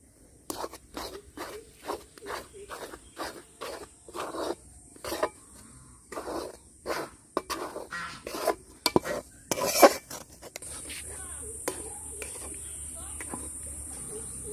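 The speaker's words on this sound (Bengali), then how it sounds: "আমি আটাটাও দিয়ে দিচ্ছি একসঙ্গে, ভালো করে সুজির সঙ্গে মিশিয়ে নেব" Semolina and wheat flour are mixed together by hand in a bowl. Rhythmic soft scraping strokes repeat steadily, then give way to a quiet continuous hum.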